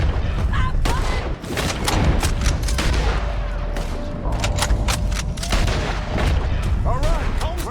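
Gunfire in Red Dead Redemption 2 while chasing a wagon: a loud, rapid volley of sharp shots and heavy booms from several guns, with voices shouting in between.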